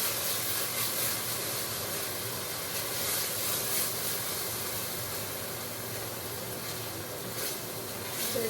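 Half a cup of wine simmers in a pan with braising beef shank for osso buco, producing a steady, even hiss and sizzle that continues without a break and stays close and fairly loud.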